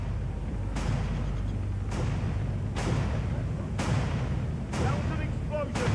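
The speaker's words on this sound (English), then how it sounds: "That was an explosion." Explosions in the Hitman video game, a series of about six heavy booms spaced roughly a second apart over a low rumbling background, loud and close.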